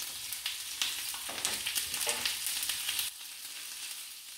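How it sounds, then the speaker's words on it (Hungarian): Bacon sizzles and crackles in a hot frying pan, with scattered pops and a few stirring scrapes, then settles into a quieter fry. "A serpenyő kellőképpen felforrósodott, úgyhogy rádobtam a szalonnát"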